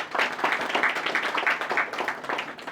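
Classroom of students clapping for a classmate who stands up after a test score is read out, lively uneven claps from many hands in a close, roomy space, no talking.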